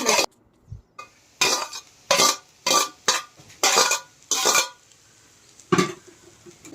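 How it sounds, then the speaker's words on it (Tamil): A spatula scrapes and tosses chicken fried rice with egg in a pan, making about eight separate rhythmic scraping strokes close by, with short quiet pauses between them and no voices. "இப்போ இது எல்லாத்தையும் ஒன்றா சேர்த்து நல்லா மிக்ஸ் பண்ணிக்கோங்க"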